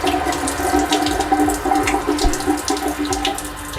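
Water sprays and gushes continuously from a garden sprinkler system under repair, a steady broadband hiss that stays loud and close throughout with no talking.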